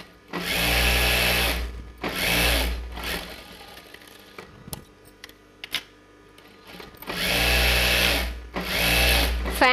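A sewing machine stitches a curved seam in pant fabric, running loudly up close in three whirring bursts with quiet pauses and small clicks between them.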